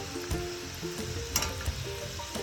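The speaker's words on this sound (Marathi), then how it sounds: "असे चमचा फिरवत असं एकसारखं त्यांना तळून घ्यायचे" Modaks deep-fry in hot oil for Ganesh Chaturthi, a soft continuous sizzle with a few light knocks as a spoon stirs them, heard alone and fairly quiet.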